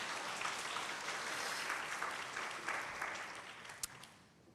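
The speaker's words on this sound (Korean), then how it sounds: "박수 부탁드릴게요." Applause from an audience at a university academic seminar after a graduate's talk, a soft, fairly distant patter of clapping that swells and then fades away over several seconds, with no talking on top.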